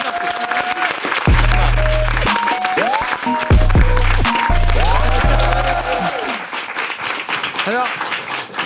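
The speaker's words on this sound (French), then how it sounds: "Allez, on l'applaudit." A studio audience applauds a guest arriving on a French talk show, a dense, steady clapping wash lasting several seconds with voices and tonal sounds over it.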